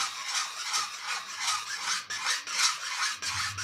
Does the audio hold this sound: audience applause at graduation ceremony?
no